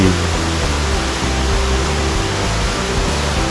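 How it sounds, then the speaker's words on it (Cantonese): A small, low waterfall on the Little Hawaii Trail in Tseung Kwan O makes a steady, dense rush of falling water, loud and unbroken, with no voices. "就可以欣賞到小瀑布"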